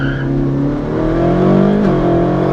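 A Ferrari 458 Speciale with a Novitec exhaust accelerates hard, its naturally aspirated engine note rising steadily in a loud, close, continuous wail with no talking over it.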